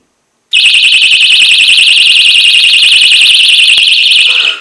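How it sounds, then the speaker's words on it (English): A piercing police-approved personal security alarm shrieks at close range, a very loud warbling high-pitched tone that sounds continuously for about four seconds before cutting off. "This is a police approved security alarm."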